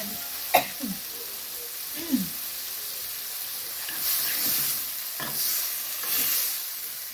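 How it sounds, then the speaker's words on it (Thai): Beef with red curry paste being stir-fried in a hot pan, a continuous sizzle and hiss broken by a few sharp scrapes and knocks of the spatula against the metal. "ผัดไปเรื่อยๆ ให้เนื้อเริ่มสุก"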